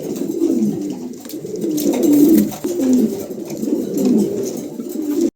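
A pair of yellow fantail pigeons coo repeatedly at close range, soft rolling throaty calls overlapping in an unbroken murmur with no talk.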